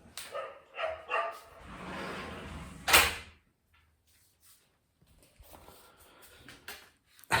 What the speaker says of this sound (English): I'm sorry for the dog barking right now.